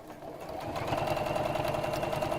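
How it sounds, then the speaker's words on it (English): Sewing machine topstitching around the edge of a fabric Easter basket, a close, steady rapid rhythmic hum that builds slightly and holds for a couple of seconds. "then we'll top stitch all around the edge"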